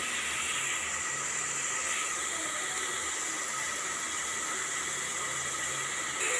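Chopped onions fry in a pan until brown, giving a steady, even hiss of sizzling oil that stays close and constant throughout, with no voices over it.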